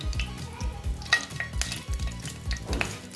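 Ghee hitting hot oil in a pan crackles and sizzles, mixed with repeated scraping stirs and light clinks of a utensil against the pot, moderately quiet and without voices.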